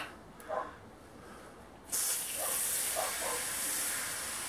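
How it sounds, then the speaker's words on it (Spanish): A hand spray bottle misting water over an onion seedbed: a quiet room, then a steady hissing spray that holds for a couple of seconds with faint bursts under it. "pues para no remover mucho las semillas, vamos a regarlo por encima"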